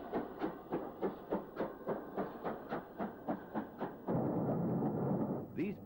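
A British steam locomotive at a station chuffs in a regular rhythm of about a dozen exhaust beats, then gives way to a sustained hiss of steam, with a brief higher squeal at the end.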